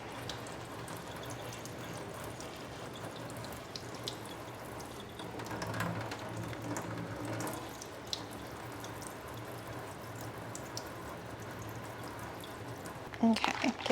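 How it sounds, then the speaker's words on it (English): Lukewarm water rinsing the leaves of a newly unboxed houseplant, a steady soft splashing and trickling at moderate level that runs throughout, with a brief louder clatter right at the end. "we're just going to rinse her leaves"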